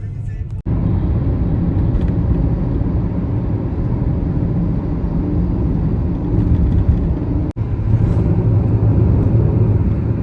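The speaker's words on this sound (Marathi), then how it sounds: "श्रीचे पप्पा गाडी चालवत आहेत" Family car driving on a road through heavy rain, heard from inside the cabin: a loud, steady low rumble of engine and road noise runs throughout, with two brief dropouts.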